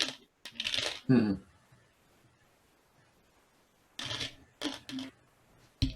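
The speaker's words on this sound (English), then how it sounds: "you guys hear D dropping my dice?" Dice dropped onto a table during a tabletop role-playing game session make short, sharp clattering rattles, one cluster near the start and a few more a few seconds later, with quiet gaps between them.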